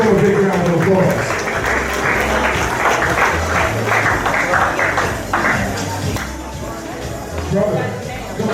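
Crowd applause fills the room at a fashion and award show, sustained clapping with scattered louder claps and some shuffling, staying strong before thinning slightly toward the end.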